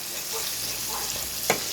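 Cabbage and onions cook in a pan on moderate heat with a continuous loud frying hiss. One sharp utensil knock near the end breaks through, and no one speaks over it.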